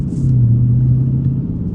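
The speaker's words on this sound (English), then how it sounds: "I love the sound of this car." A manual car's engine in third gear hums steadily at low pitch, a sustained close-up drone that holds its tone without a clear rise, continuous throughout.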